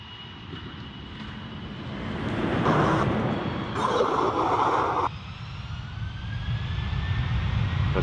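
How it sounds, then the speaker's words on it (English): British Airways Airbus A320 arriving at Dublin Airport from London Heathrow, heard as a loud, continuous jet engine roar that swells and holds with a faint whine over steady rumbling background, no speech over it. "we've got a British Airways A320 from London Heathrow as well"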